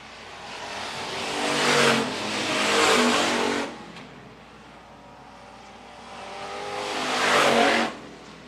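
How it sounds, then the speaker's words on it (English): Hobby stock race cars racing on a dirt track at Phillips County Raceway, two loud engine passes swelling and fading with a quieter drone between, and no voices. "Hernandez now to the inside of the 8S of Craig Smith, looking down the back straightaway."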